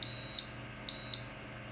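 An RKI GX-6000 gas detector gives two short, loud high-pitched alarm beeps during a PID bump test with calibration gas, each about a quarter second and spaced apart, with no talk.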